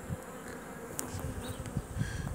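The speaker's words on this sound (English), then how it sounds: "this is a good example of the bees bringing in heaps of pollen" Honey bees buzzing steadily at a busy hive as they bring in heavy loads of pollen, a dense continuous drone close to the microphone with no voices.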